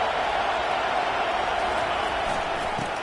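Stadium crowd at a Texas football game, a constant hissing roar of many voices that stays level and fairly distant beneath a commentator's talk.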